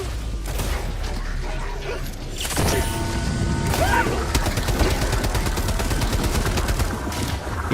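Rapid gunfire in Helldivers 2, a dense, continuous clatter of automatic shots and mechanical clanks running loud throughout, with explosions and battle noise layered in.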